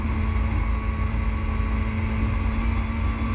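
A WTCC touring car driven hard on the Nordschleife, held in fifth gear at high revs, gives a steady, loud, droning engine note heard from inside the car, with constant wind and road roar and no break.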